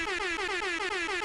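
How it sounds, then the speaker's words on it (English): Double air horn sound effect blaring loud and steady for just over a second, a bright brassy blast with slight pulsing. "Double air horn for y'all."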